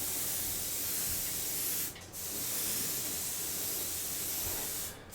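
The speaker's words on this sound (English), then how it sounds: "Because I'm only spraying from one direction, I reckon that the paint has only caught the tops on this side" An aerosol can sprays rust-coloured paint onto a scale model U-boat in close, loud, steady hissing bursts, with one short pause near the middle and another at the end.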